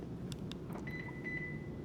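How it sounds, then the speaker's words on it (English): A Toyota vehicle, a Tacoma pickup, gives a steady electronic beep, a clear tone that sounds twice with a short gap, close and moderately loud over low background hum and a few faint clicks. "How I missed that Toyota beep"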